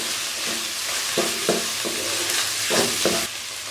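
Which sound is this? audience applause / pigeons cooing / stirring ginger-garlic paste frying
stirring ginger-garlic paste frying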